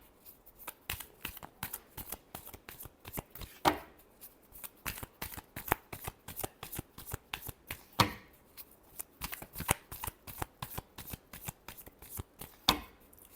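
Tarot cards being shuffled, a rapid run of crisp riffling flicks and slaps in uneven bursts with a few sharper snaps, close and fairly quiet, no voices.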